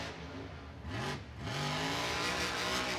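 A monster truck's engine roars and revs at Monster Jam in Raymond James Stadium, Tampa, as it spins around, a loud sustained drone whose pitch rises and surges, with a brief tire squeal under the din.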